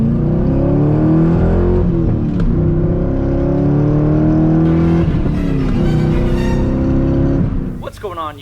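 A C5 Corvette engine revs loudly and close, its steady throaty drone rising and falling, while a person talks over it.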